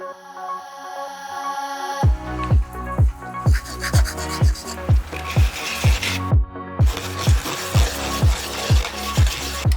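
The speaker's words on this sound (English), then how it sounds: "So I cut this little notch out right there" Repeated rhythmic rasping strokes, roughly two per second, as a part is notched by hand for a DIY sci-fi prop, loud and close with no talking.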